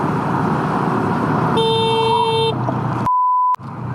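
A motorcycle horn on a Honda Super Cub sounds one steady honk of about a second over road and engine noise, followed by a shorter pure electronic beep.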